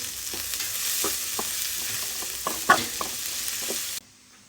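Sliced onions fry in plenty of hot oil in a pan, giving a steady bright sizzle broken by several soft scraping stir strokes and one sharper clack, before the sound cuts off.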